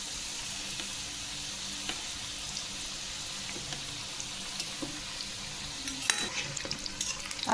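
Sweet karanji pastries made of maida deep-frying in hot oil, a constant bubbling sizzle with occasional light clinks and scrapes, growing busier and louder toward the end, no one speaking.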